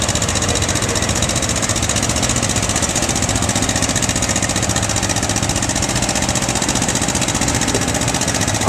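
A 1948 John Deere Model S tractor engine runs close and loud at a county fair tractor pull, a continuous heavy drone without a break.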